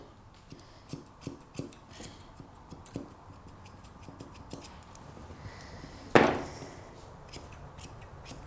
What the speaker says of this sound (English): Comb all your hair out and then just scissor around your foot.